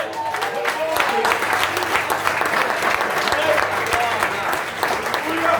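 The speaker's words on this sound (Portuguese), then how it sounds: "Dá salva de palmas para Ele." A church congregation at an Assembleia de Deus Renovada service in Maringá claps steadily and loudly for several seconds, a dense sustained applause filling the hall, with voices mixed in.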